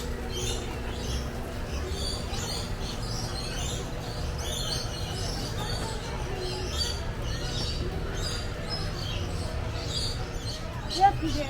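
Macaws and other birds chirp and call inside an interactive bird cage, scattered bright tweets over a low, steady background murmur, with people talking nearby.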